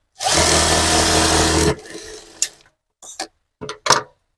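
A sewing machine stitches a sleeveless blouse in one loud, close continuous burst of rapid needle strokes lasting under two seconds, followed by a few sharp clicks and knocks of handling.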